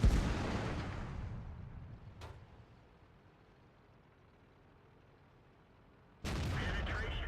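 A single heavy tank-gun blast from an ELC AMX light tank in World of Tanks, a sharp loud report at the start that rumbles and fades, followed by a faint click and a second loud burst near the end.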